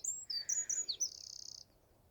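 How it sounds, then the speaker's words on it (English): Before sunrise on the Cornish coast, a wren and a robin sing close by with quick, bright chirps, then a fast trill, in an otherwise quiet morning. "A little wren and a robin you might be able to hear."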